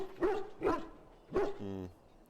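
A Mabari war hound in Dragon Age: Origins gives three gruff barks in quick succession, followed by a brief whine, moderately loud and close.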